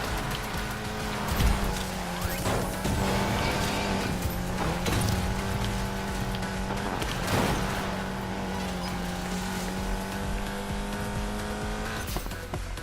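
In NFS Payback, a Golf 7 GTI's engine holds a sustained mid-pitched drone, broken by several sharp bursts of tire squeal and skidding as the car slides through corners.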